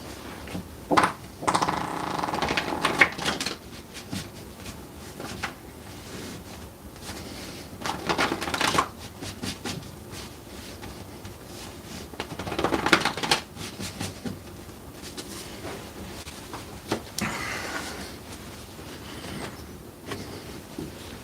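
Playing cards being shuffled for a tabletop basketball game, heard as several close, crisp bursts of riffling and flicking separated by brief quiet pauses.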